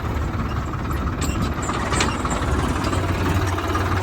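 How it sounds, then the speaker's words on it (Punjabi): A steady, rumbling diesel tractor engine runs continuously close by, a low chugging drone with no voices, working under load pulling a plough through a potato field. "ਸਾਹਮਣੇ ਟਰੈਕਟਰ ਪਲੋ ਆ ਰੂਟਾਵੇਟਰ ਮਾਰਨ"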